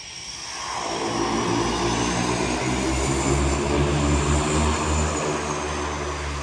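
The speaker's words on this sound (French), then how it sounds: "Regarde, l'avion, elle arrive!" A propeller airplane drones close by, its engine rising into a loud, steady throbbing roar that holds for several seconds.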